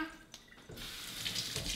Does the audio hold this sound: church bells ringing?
no